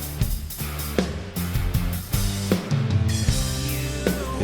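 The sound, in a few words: Gavin Harrison drum fill played on drum kit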